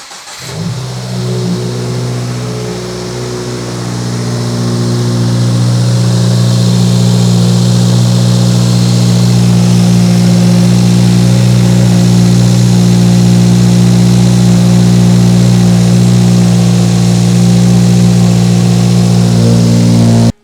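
A 2022 Subaru WRX engine cranks and catches, then settles into a loud, steady rumble with rising revs, running close by and alone for about twenty seconds.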